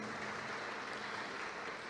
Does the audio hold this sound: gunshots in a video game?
no